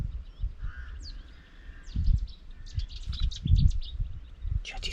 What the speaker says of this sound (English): Chetty's warbler over there.